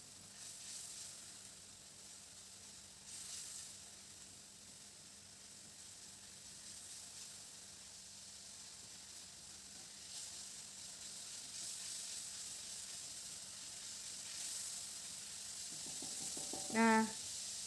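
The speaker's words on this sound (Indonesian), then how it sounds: "Lalu kita aduk-aduk sampai bumbu halusnya ini berwarna coklatan keemas-emasan gitu dan mengeluarkan bau harum gitu ya." Ground spice paste fries in a pan with a continuous, quiet sizzling hiss while it is stirred, and a brief sharp clink near the end.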